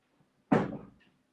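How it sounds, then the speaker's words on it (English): A door swings shut with a single firm thud and a brief rattle that rings out and decays quickly, close by in a quiet room. "Let's close this door."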